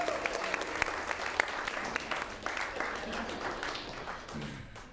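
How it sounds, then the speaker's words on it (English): Warm, sustained audience applause at a late-night comedy show, with a few sharp individual claps standing out over the crowd and some voices mixed in, gradually tapering. "give a big round of applause for our stage manager"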